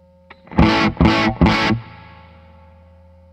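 A VFE Pale Horse DIY distortion pedal with its compression knob turned up plays three loud, fuzzy chord stabs in quick succession, then a fading distorted ring. No voices are heard.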